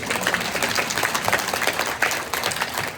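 A lecture audience at a talk on direct selling claps together in dense, sustained applause that stays fairly even across the few seconds, with no voices on top.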